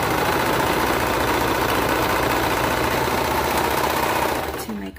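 Serger sewing a folded cuff on a cardigan, a loud, fast, steady mechanical whirring buzz that runs continuously and then stops abruptly near the end.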